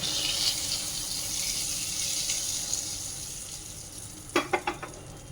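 Ghee with Kashmiri chili sizzles in a pan as a final tempering for paneer bhurji, a steady frying hiss that fades, followed by a few sharp clanks of utensils.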